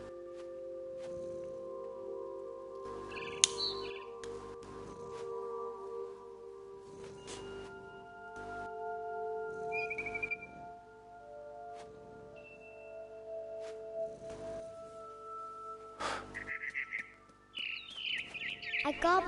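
Bird chirps and tweets in the video game What Remains of Edith Finch, scattered short calls over a steady tonal game soundscape, with a cluster of brighter chirps near the end.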